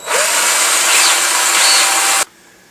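A power drill with a number 4 bit whirs loudly and steadily up close, drilling into a gun drum for about two seconds, then stops abruptly, leaving quiet room noise.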